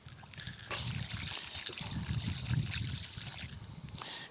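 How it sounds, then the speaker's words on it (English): Denatured alcohol trickles as it is poured into the tank of an Aladdin Blue Flame kerosene heater, a close, steady liquid dribble and splash lasting several seconds. "I'm gonna pour some of this denatured alcohol into here"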